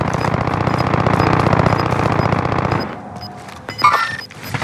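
Rapid automatic gunfire from a car in a shooter video game, a loud continuous burst of shots lasting a few seconds that stops abruptly, followed by scattered sharper impacts and quieter game noise.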